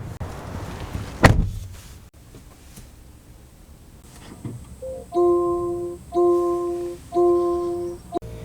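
A 2024 Jaguar I-Pace electric rear hatch opens with a sharp mechanical thunk and then a clear warning chime repeating three times as the powered lift runs, heard close by.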